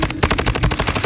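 Rapid automatic gunfire from the video game Call of Duty, a tight burst of about a dozen evenly spaced shots, loud and close with no talk over it.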